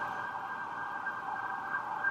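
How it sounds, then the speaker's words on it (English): Sirens heard outside a room, a steady mid-pitched wail that holds at a moderate, somewhat distant level without break, with no talking over it. "I don't know if you all hear the sirens."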